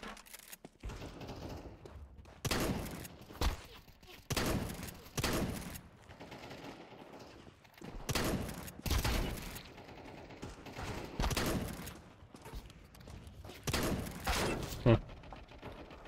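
Shotgun blasts in the video game Counter-Strike 2 fire as spaced, heavy single shots with mechanical pump and reload clatter between them, repeating irregularly throughout, with no talk.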